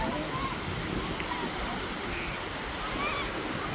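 Ocean waves wash steadily onto Station 1 beach in Boracay, a continuous broadband surf rush with gentle swells, heard close and fairly loud under faint background chatter.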